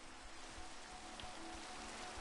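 Steady rain hiss falling across a video game world, a dense, even wash of droplets with soft low patter, continuous and close throughout with no voices.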